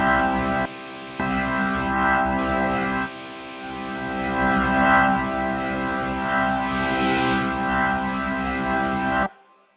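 A sustained Hammond organ chord through a Leslie speaker and guitar amp swirls with a rotating-speaker wobble and gritty amp distortion, loud and continuous, then cuts off abruptly.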